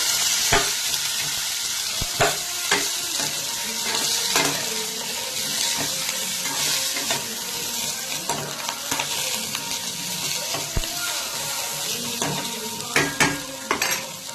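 Whole garam masala frying in a pan while being stirred for a chicken stomach recipe: a steady close sizzle throughout with repeated scraping and clinks of a utensil against the pan, no talk.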